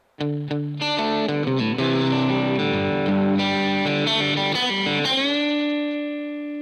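A distorted electric guitar plays a fast lick with string bends and quick pull-offs, ending on a sustained, ringing note.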